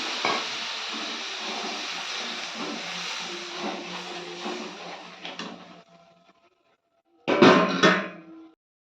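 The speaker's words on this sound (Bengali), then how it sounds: "দেখতে পাচ্ছেন মশলাটা আমার ফুটছে" Spice paste thinned with poppy-seed water simmers in a pan, giving a steady bubbling sizzle that fades out after about six seconds, followed by a short, louder burst of sizzling near the end.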